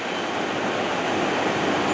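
An empty coal unit train rumbles past close by near Windsor as rain begins, a continuous dense roar of rail noise, steady throughout with no voices.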